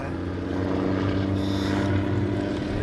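An Antonov An-2 propeller biplane drones overhead, a steady loud engine and airscrew hum holding level with no gaps and no voices.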